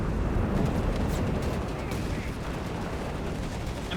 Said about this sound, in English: So much artillery though.